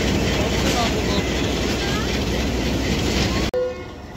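The Rehman Baba Express departs Hafizabad railway station in Pakistan, a loud continuous rumble of rolling wagons and clattering wheels that ends abruptly, followed by a brief horn-like tone.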